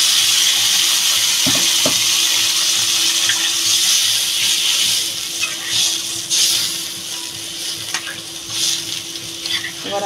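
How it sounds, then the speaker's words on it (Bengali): Water poured into a pan of fried-down curry for pabda fish and bhindi, hissing and sizzling loudly and steadily with stirring clatter, close and alone. "আমি এবার জল দিয়ে দেবো।"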